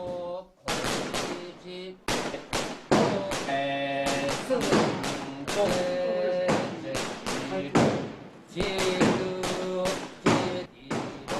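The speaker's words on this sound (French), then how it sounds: "on fait sauter des pétards en dehors de la maison pour célébrer la première purification de sa vie." Firecrackers set off outside a house in the Wumeng Mountains to mark a child's first purification rite: a long run of sharp, loud bangs in irregular bursts, with voices and tonal sounds heard between the blasts.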